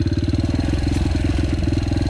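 A Yamaha TTR 125L off-road motorcycle with a quiet exhaust runs near by, its engine putting out a rapid, even low thumping pulse that holds steady throughout, with no voices.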